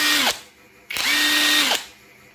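A cordless PRC impact wrench runs in two short bursts, each a loud, close whirring drone that winds up and spins down, separated by a brief pause.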